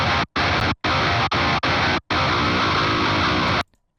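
Dry electric guitar recorded through an Axe-Fx with no plugins plays a tight, loud, distorted riff of short chopped bursts separated by sharp stops, then one longer sustained chord that cuts off.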